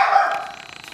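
A single short, sharp bark from a dog indoors, close and fairly loud, trailing off quickly.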